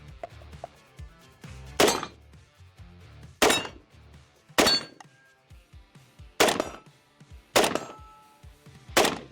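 Sharp, loud gunshots from a video game gun fire one at a time, six reports spaced about a second apart. Each shot has a bright metallic crack, and quieter clicks and clanks fill the gaps between them. No one speaks.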